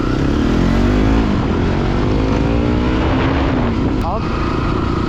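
A motorcycle ridden along a road near Chilla Dam in Rishikesh, its engine droning loudly and steadily with shifting pitch, heavy wind buffeting throughout.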